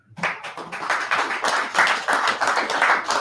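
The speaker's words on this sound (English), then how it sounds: "Clap it up" An audience at a gathering of the Israelite school of universal practical knowledge on West 125th Street bursts into sustained clapping, close and steady, with many hands overlapping for the whole stretch and no talking.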